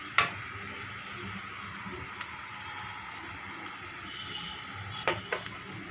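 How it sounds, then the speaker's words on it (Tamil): Chopped onions fry in a pan with salt added, giving a soft, steady sizzle. A few sharp clicks of stirring break in near the start and end, with no talking. "இப்போ பாருங்கள், வெங்காயம் நல்லா ஃப்ரை ஆகிடுச்சு"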